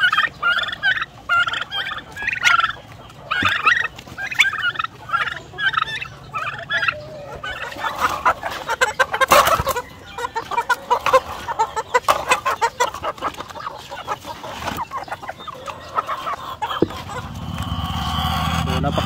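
A flock of chickens clucks and squawks busily in quick bursts, followed by louder rustling and scattering noises as the birds crowd in.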